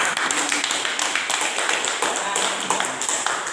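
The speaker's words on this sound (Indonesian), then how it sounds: "tepuk tangan" A classroom of students clapping after a presentation on bullying, a dense, even round of hand claps held steady throughout, with faint voices underneath.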